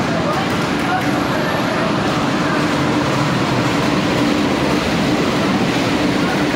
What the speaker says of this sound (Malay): Ini dia kereta api dia.